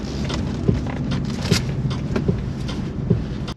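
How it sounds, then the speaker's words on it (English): The turn indicator of a Jeep Avenger electric car ticks inside the cabin, giving a steady, soft, drum-like clicking pulse at an even rhythm over a low road and cabin hum. "This is an indicator."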